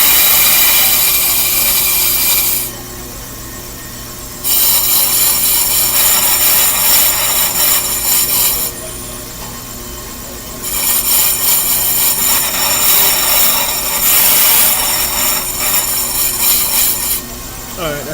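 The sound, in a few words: working a worn disc brake rotor back and forth to remove lip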